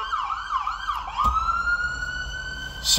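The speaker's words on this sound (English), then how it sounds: "There's an ambulance going by." An ambulance siren wails steadily as the vehicle passes along a street, its rising and falling tone clear and fairly close, with a short spoken word near the end.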